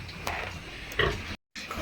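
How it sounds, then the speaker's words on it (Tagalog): Pigs on a farm give a few short, nearby grunts over a low background murmur, with a brief break in the middle. "pakita ko sa inyo yung mga baboy natin dito"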